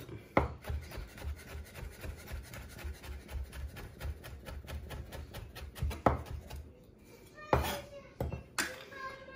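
A knife finely chopping cornichons on a board, with quick, rapid, close knocks in an even rhythm and a few louder clatters near the end.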